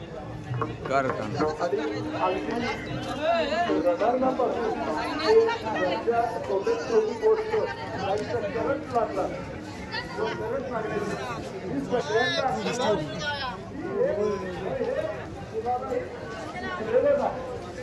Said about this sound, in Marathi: पालखीच्या दर्शनासाठी लागलेली भाविक भक्तांची रांग आणि तुडुंब गर्दी